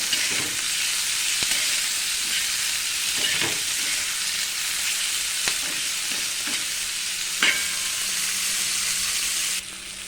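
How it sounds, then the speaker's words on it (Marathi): Chopped tomatoes fry in a pan for an aloo matar curry, giving a steady close sizzle with scattered clicks and scrapes of stirring throughout, and no talking. "याच्यामध्ये टमाटा पण घालून घेणार आहे तर हे आपल्याला छान लाल होईपर्यंत याला परतून घ्यायचं आहे"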